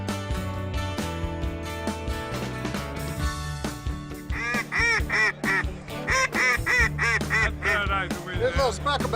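White-fronted geese, speckle bellies, calling in a busy chorus of repeated honks and yelping cackles, growing louder and denser partway through, heard alongside a rhythmic musical backing.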